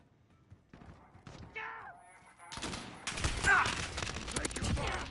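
Rapid automatic gunfire from the Modern Warfare video game erupts partway through, a dense, loud stream of shots after a quieter stretch with a voice briefly heard.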